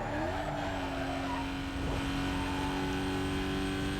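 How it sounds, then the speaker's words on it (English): A V12-powered Pontiac GTO in Need for Speed: Most Wanted drones steadily at high revs, tires squealing through a turn, the engine note loud and sustained with a brief shift partway through. "This is basically a V12 powered Pontiac GTO."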